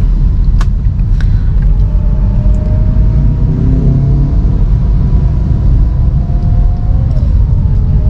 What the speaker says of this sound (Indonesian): Ini saya mengendarai Toyota Agya tahun 2021